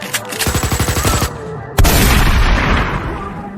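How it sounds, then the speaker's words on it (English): A rapid burst of gunfire rattles off in quick succession in a video game bar shootout, stops briefly, then a heavy boom hits and rumbles away. "he ran at the first sound of gunfire"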